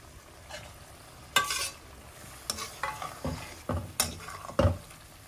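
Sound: eggs added to frying masala in a pan

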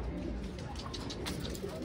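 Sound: pigeons cooing

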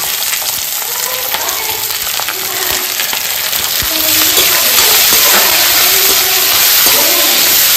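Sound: oil frying in a wok (kadai)

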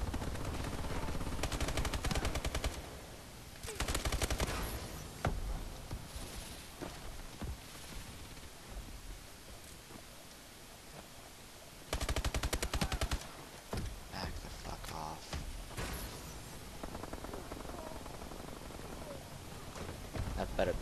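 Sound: sentry gun firing in a video game

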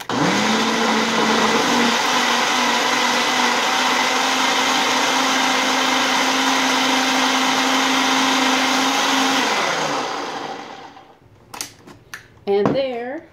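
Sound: blender mixing protein shake

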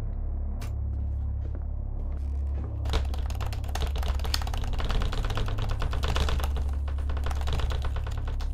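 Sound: button mashing on keyboard in video game Paper Cages

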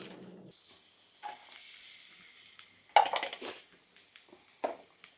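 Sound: chopped onions sizzling in melted butter

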